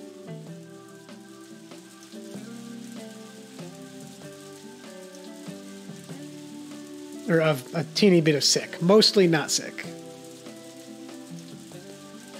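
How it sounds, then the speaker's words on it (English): Steady rain falls in Harvest Moon: A Wonderful Life Special Edition, a soft hiss running beneath looping game music while a person talks over it partway through. "But it's raining now."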